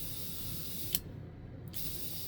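A steady airy hiss of an airbrush spraying, cut off briefly by a click and then resuming, fairly quiet and close.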